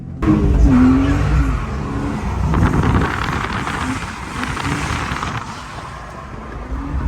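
A classic BMW drifts around a track, its engine revving hard and climbing through the gears while the tires squeal and hiss, loud and close throughout.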